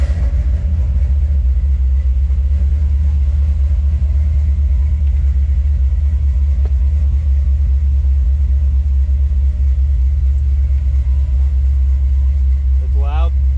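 A loud engine in an old body style pickup truck running on a new base tune, just fired up: a heavy, continuous, close rumble that stays steady and strong throughout.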